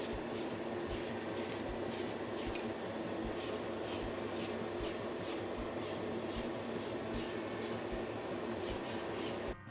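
Aerosol primer sprayed onto a Corgi Whizzwheels 267 Batmobile diecast model during restoration: a steady, loud hiss runs throughout, broken by regular short pulses as the can is pumped in quick bursts.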